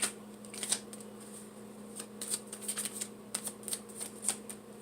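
Tarot cards shuffled by hand in a quiet room, a run of soft, irregular riffling flicks and taps close by, with a faint steady hum underneath.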